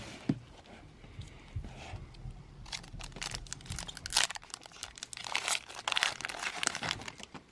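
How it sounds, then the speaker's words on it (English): Pokémon card booster pack wrapper from a Twilight Masquerade Elite Trainer Box being torn open, close crinkling and crunching foil with rustling bursts that grow busier toward the end, no talk. "Let's rip through it, see what we get."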